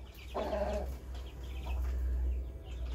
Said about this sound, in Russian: это цыплята перепелки там в другом месте